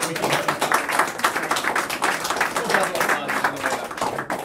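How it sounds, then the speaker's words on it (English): A smaller group claps warmly in an uneven patter, the applause staying lively throughout. "A round of applause."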